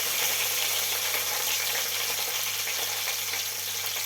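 Onions fry in a pan for a Telangana-style ridge gourd dal curry, giving a loud, steady, unbroken sizzle from start to finish.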